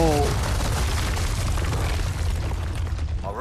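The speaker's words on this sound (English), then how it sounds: "So you can just run to the cannon and shoot everything." Cannon fire and explosions in the Resident Evil 4 Remake video game, a loud, dense rumbling blast that fills the whole clip with continuous booming.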